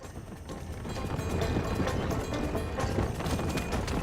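Horse hooves clip-clop in the video game Red Dead Redemption, a busy rhythmic patter of steps mixed with game ambience and growing slightly louder, with no talking.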